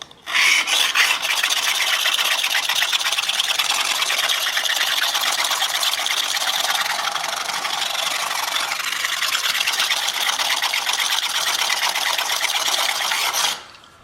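A knife blade is rubbed across a 400 grit sharpening plate in a continuous, close, fairly loud rasping scrape with a fast stroking texture, running steadily for the whole stretch before stopping.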